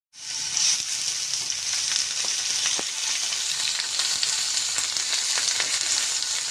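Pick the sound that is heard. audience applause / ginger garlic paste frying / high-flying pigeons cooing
ginger garlic paste frying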